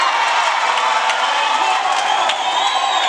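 Students and parents in Wundanyi cheer in a dense, continuous crowd roar, with whoops and scattered clapping running steadily throughout and no clear break.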